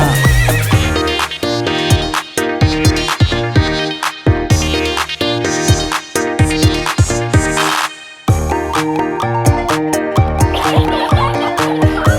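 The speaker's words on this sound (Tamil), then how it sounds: "கட கட குடுவன கட கட குடுவன குதிரை வந்துச்சு" A horse neighing and clip-clopping hooves play as a sound effect inside a children's Bible song, with rhythmic hoof beats running under the loud music throughout.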